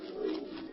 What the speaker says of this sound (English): that was just an old screech owl